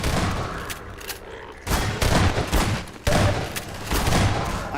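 Gunfire in the video game Half-Life 2 Episode 1, with sniper rifle shots among loud bursts in three distinct clusters separated by short drops, close and harsh, with little talk.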